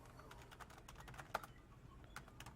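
Computer keyboard keys tapped out as chat commands are entered in the online shooter Global Agenda, quick soft clicks in short irregular bursts with one sharper keystroke, close and quiet with no talk.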